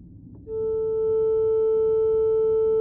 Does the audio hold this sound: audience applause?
no